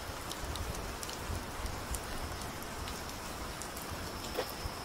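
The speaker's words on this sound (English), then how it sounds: "And now it's starting to rain." Rain falls outdoors during a vacation in Savannah, a steady, even hiss of drops spattering on surfaces with a few sharper taps scattered throughout.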